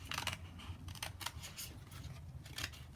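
Scissors cutting out a rub-on transfer sheet for card making make soft, close snips in an irregular series of quick cuts against a quiet background.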